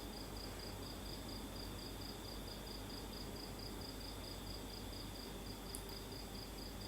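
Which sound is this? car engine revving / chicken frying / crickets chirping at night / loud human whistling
crickets chirping at night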